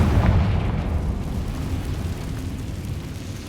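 A Confringo blasting spell bursts in Hogwarts Legacy, a heavy rumbling explosion that hits loud at once and then rolls on as a sustained, slowly fading boom with no voices.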